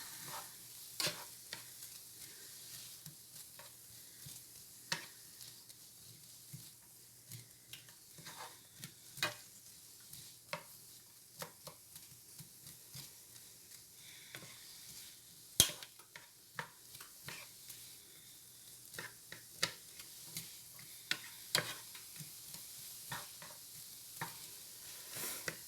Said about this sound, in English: we're going to saute these down until they're cooked